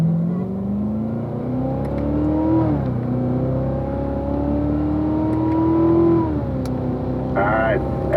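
A car on a race track accelerating back up to speed, engine note climbing steadily through gears with a shift dip, loud and close, with someone talking over it.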